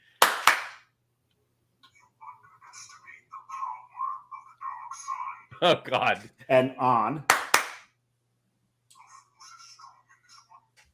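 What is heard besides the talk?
hand claps to switch a Christmas tree clapper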